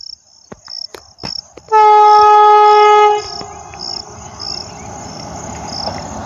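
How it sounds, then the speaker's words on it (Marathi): Vande Bharat Express rushing past at speed in the Konkan countryside: a loud sustained horn blast, then a roaring, rattling rumble of carriages, with sharp clicks and shrill insect chirps before it arrives. "ट्रेन येते अहो वंदे भारत एक्सप्रेस मंडळी एक नंबर कसली सुसाट येते बघा"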